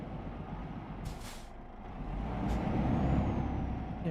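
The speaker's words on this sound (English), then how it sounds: "we have to brake for this traffic light" Truck air brakes hiss sharply in Euro Truck Simulator 2, two short bursts of air release over a steady diesel engine drone that swells louder as the truck slows for a traffic light.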